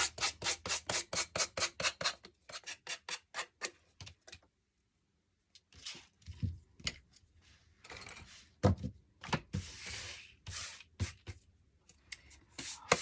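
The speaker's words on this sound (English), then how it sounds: "So I'm going to use this nail file here, came from Dollar Tree, and I'll just sand the excess right off." A Dollar Tree nail file sands excess wood off a cutting-board Easter chick, with rapid rhythmic rasping strokes close up, then a pause, then slower, irregular rubbing and scraping.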